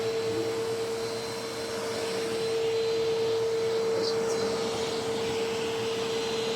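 A Eureka AirSpeed upright carpet vacuum cleaner runs steadily nearby, its motor giving a constant whirring drone with a fixed tone and no talk over it.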